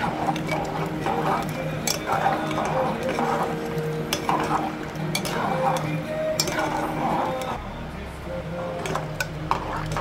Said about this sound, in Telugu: పసుపు యాడ్ చేసుకుని బాగా కలుపుకోవాలి